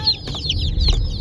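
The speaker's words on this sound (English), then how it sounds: "So I have the chicks right behind me on the floor." Young red broiler meat chicks in a brooder enclosure on the floor at home peep and cluck in quick, high chirps, close by with no talking.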